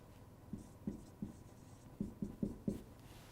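Pen writing a symbol by hand on paper, a quiet close series of soft scratchy strokes in short irregular taps, no talking.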